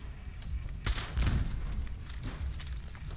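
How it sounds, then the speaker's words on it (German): Gunfire from the video game Fallout 76: a sharp, loud shot bursts out, a second heavy blast follows a moment later, and a low rumbling tail fades under steady background noise. "Erstmal ein Schuss damit."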